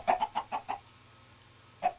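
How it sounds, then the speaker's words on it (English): Chickens cluck in a video game, a quick burst of five close, clipped clucks, then a short gap and one more cluck, over a faint low hum. "this is what I mean by the chickens get out of control quick"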